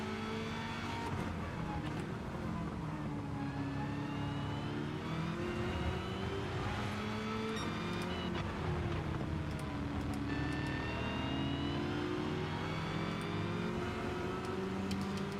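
Race cars lapping Brands Hatch in a racing video game, engines droning loud and steady with rising and falling revs throughout as several cars run close together, with no talk over them.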